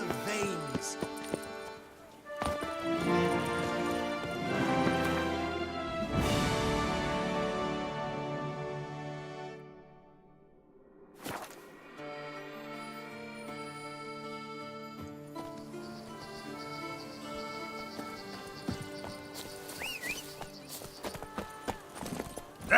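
Roach, Geralt's horse in The Witcher 3, gallops in a quick, rhythmic clip-clop of hooves over layered game music, with a short pause midway before the hoofbeats resume.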